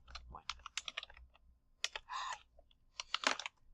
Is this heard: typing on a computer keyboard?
yes